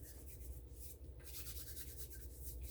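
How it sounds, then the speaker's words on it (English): Biscuit dough and flour are scraped off a hand in a kitchen, a soft, steady rubbing and rasping very close and faint, with no talking. "Let me scrape some of this off my hand"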